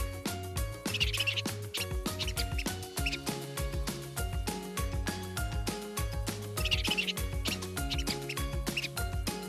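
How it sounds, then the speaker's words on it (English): Rapid high squeaks of a small mouse repeat in quick bursts over a steady rhythmic musical backing, clear and fairly close. "That squeaky sound came from a little mouse."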